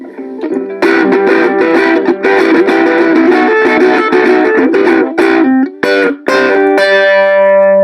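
Ukulele chords played through a Roland Mobile Cube amplifier's overdrive effect, thick sustained strums with a slightly crunchy, gritty edge, ending on a ringing chord.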